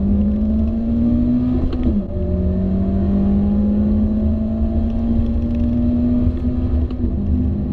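A tuned Mazda MX-5 ND sports car engine revs loudly and steadily, its pitch climbing, dipping briefly, then rising again in a sustained throaty drone.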